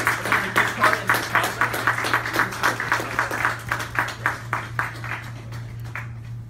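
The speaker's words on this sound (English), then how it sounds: "I'll give him a round of applause for being my" An audience gives a round of applause for a mentor at a final presentation, with sharp, rhythmic claps over a steady low hum that slowly thin and fade toward the end.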